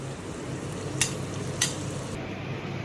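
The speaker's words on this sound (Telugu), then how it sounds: "ఆయిల్లో ఆనియన్స్, టొమాటో, గ్రీన్ చిల్లీస్ బాగా ఫ్రై చేసుకొని" Onions, tomato and green chillies fry in oil for crab gravy, a faint, even sizzle with two brief sharp stirring scrapes.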